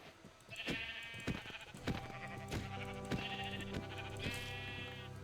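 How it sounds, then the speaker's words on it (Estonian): Sheep bleating in the Minecraft video game: several short, loud bleats in quick succession over a busy game background, with no talking. "kus on lambad? lammas!"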